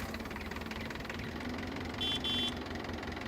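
A Valpadana 4655 tractor engine in a farming video game idles with a steady, loud mid-range rumble and faint knock throughout, with a brief higher warning beep-like tone near the end.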